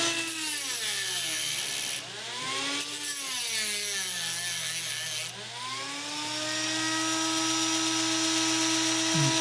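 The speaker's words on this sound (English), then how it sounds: "And to start these, I'm using a Dremel tool. And just cut a notch." A Dremel rotary tool grinds a notch into a steel muzzleloader breechplug, its high whine rising and falling in pitch as the cut loads and eases, loud and close, with no talking.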